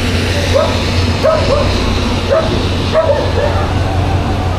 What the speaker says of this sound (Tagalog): Galit na galit yung aso.